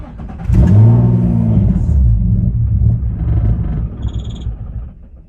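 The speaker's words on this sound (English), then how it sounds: "My 350Z starts and dies." A Nissan 350Z engine cranks and catches with a loud rumbling start, then runs rough and sags for a few seconds before dying out, heard close up with no talking.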